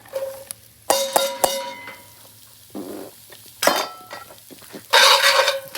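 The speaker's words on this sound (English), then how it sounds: "Now I'm gonna add in my onions." Chopped onions tumble into a pot over a wood fire for chicken noodle soup, with several sharp clatters of utensil against the pot and bursts of sizzling and stirring between quieter gaps.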